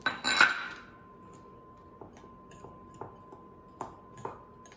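A spoon clatters loudly against a bowl at first while cinnamon walnut filling is mixed, then settles into sparse, light clinks and taps every second or so, close by with no talking.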